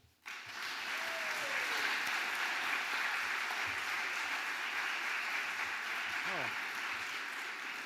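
Sustained audience applause at the 2025 Golden Goose Award ceremony welcoming Illinois Congressman Bill Foster, a steady hall-filling wash of clapping from many hands that rises quickly and holds, with faint voices beneath.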